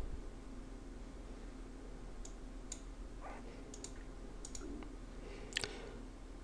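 A computer mouse gives several sharp, faint clicks, some in quick doubles, over a steady background hiss while installing a mod development toolkit for Battlefield 1942, with no talking.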